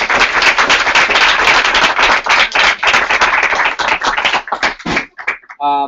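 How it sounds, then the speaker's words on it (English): Loud, close audience applause at a session, dense sharp clapping that thins into scattered claps and dies out near the end, followed by a short burst of a voice. "join me in giving them a big round of applause and a thank you"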